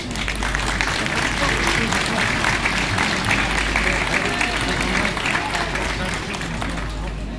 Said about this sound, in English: Just a massive round of applause to St. Thomas's.